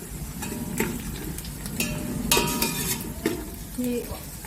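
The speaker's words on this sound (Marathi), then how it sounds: "ओला कांदा असल्यामुळे पटकन भाजतो कारण तेल खूप तापलेलं आहे" Wet onions fry in very hot oil for a Bhogi vegetable dish, making a continuous sizzle under repeated scraping and clinking of a spatula against the pan.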